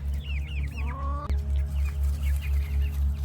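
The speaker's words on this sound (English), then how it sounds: "There goes your baby chickens." Baby chickens clucking and chirping close by over a constant low hum, with a brief sharp knock partway through.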